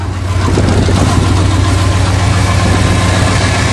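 A Chevy engine idles after a cold start on a winter farm, loud and close with a steady low rumble and a faint knocking texture that holds throughout.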